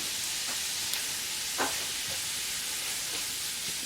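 Meat seasoned with spice is frying in a pan in a village kitchen, giving a steady, soft sizzle throughout with a few faint clicks and stirring sounds near the start and middle.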